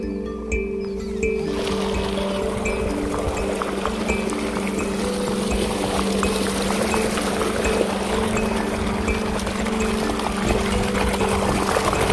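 Irrigation water pouring into a farm field, a loud steady gushing flow with a constant pump-like hum beneath it, continuous throughout and without talk.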